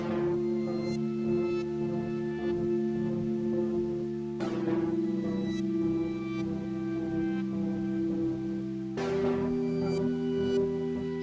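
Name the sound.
electric piano synth layered with Arturia Matrix 12V synth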